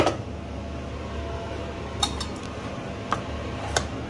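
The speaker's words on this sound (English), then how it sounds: "I put in my fried onions" Fried onions are tipped into a pot of Somali bariis rice, with a few sharp metallic clinks of a utensil against the pot over a low steady background hum.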